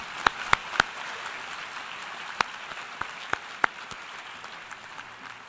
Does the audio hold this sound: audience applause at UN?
yes